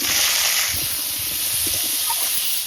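Panch phoron spices dropped into hot oil in a kadai give a steady, loud sizzling hiss that spits and crackles throughout, close up and with no talk.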